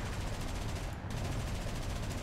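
Machine gun fire from an aircraft gunner position on a BV 238 flying boat in War Thunder, a steady, dense rapid rattle that runs unbroken and loud through the whole stretch over the engine roar.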